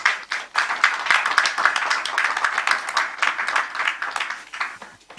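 An audience at a university graduation ceremony claps steadily, a dense sustained round of applause that swells early and stays strong before thinning toward the end.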